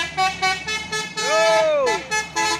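A telolet musical horn on a bus or truck plays a rhythmic series of short toots, then a long swooping melodic blast, loud and close on an Indonesian road.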